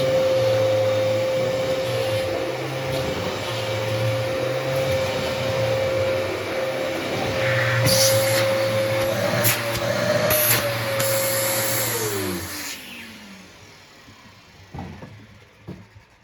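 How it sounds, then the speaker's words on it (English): A Dyson DC14 vacuum cleaner with a non-original replacement motor whines steadily with a high tonal hum, then switches off and winds down, leaving faint clicks. "that motor doesn't sound like a proper Dyson motor"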